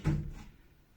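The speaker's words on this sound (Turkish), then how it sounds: "Çekmecemiz teleskopik." A telescopic drawer in a two-tone sliding wardrobe gives one short, soft slide-and-thud, close by and quiet, quickly fading to near silence.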